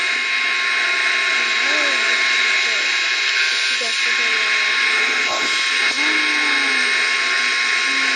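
Steady engine drone of an aircraft in a game, a constant whine with a few swooping tones, while a person talks over it throughout.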